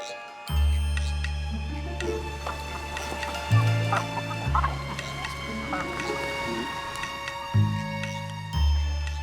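Chickens cluck intermittently amid the busy bustle of a riverside border market on the Táchira, with low boat motor drone and mixed background noise throughout, no clear speech.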